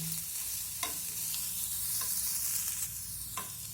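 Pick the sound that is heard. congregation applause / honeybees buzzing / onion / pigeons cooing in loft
onion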